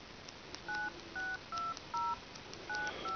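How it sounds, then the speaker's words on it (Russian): Keypad presses on a Nokia DONOD D909 clone phone, a dual-SIM touch-and-button handset, produce five short dual-tone dialing beeps in an even rhythm, clean and close over a faint hiss. "Данная модель представлена кнопки, можно нажимать, также можно пользоваться сенсором."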